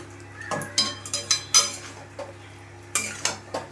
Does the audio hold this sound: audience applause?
no